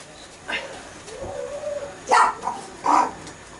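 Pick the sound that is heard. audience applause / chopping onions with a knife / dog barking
dog barking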